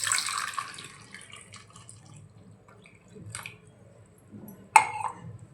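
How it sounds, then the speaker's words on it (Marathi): Water poured into a cooking pot of raw mangoes, a close splashing pour at first that fades into sparse drips and small clinks in a quiet kitchen. "आता कैऱ्या बुडतील तेवढं आपल्याला पाणी ओतायचं आहे"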